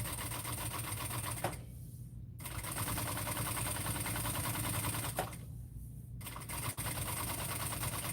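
A sewing machine stitches a bag in long, steady, close runs of rapid mechanical whirring, with two short pauses where the motor stops before starting again.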